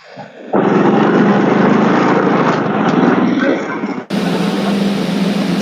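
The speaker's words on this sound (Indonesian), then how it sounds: "Ini siapa ini yang pakai motor ini?" A motorcycle engine running loudly in the background of a participant's microphone during an online group call, a continuous coarse buzzing drone that briefly drops out and resumes.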